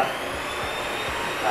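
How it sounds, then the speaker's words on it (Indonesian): An electric hand mixer runs at low speed, beating sponge cake batter in a bowl, giving a steady, continuous whirring drone that holds at an even loudness throughout. "Terus kita pakai mixer tangan atau hand mixer."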